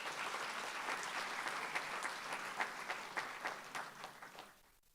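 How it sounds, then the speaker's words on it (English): Steady applause rises from the crowd at a university convocation ceremony, sounding fairly distant, then tapers off and dies away near the end. "Let us give them a well-deserved round of applause once again."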